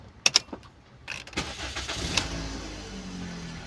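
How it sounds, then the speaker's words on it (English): A Toyota car with a 3ZR engine starts after a few clicks, with a short cranking burst that settles into a steady, low idle hum, close by and with no talking. "Okay, let me start the vehicle."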